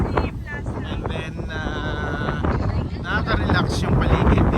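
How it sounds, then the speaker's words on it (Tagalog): Cool breeze at Perlas ng Silang in Silang, Cavite, rushing and buffeting against the microphone in a steady roar, with a voice speaking underneath. "medyo masarap yung hangin, malamig"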